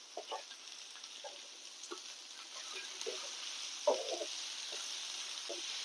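Grated coconut sautéing in a pan for radish chutney gives a steady, soft sizzle with faint scraping stirs, fairly quiet and close with no talking.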